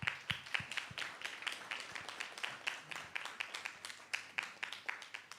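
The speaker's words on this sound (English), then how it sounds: "Let's give a warm, rousing round of applause." A small audience claps to welcome a speaker at a conference on digital opportunities in the Caribbean, heard as a faint, distant patter of individual claps in an uneven rhythm throughout.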